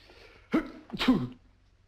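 A single sharp sneeze-like burst, followed by a second, louder explosive exhale, close and clear against a quiet background.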